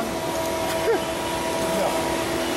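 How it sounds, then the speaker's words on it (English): A juicer press running at 120 hertz and 40 RPM while pressing celery and spinach gives off a steady, close motor hum with faint whining tones and a few subtle shifts in pitch. No one speaks. "Now it's starting to put the spinach into the press."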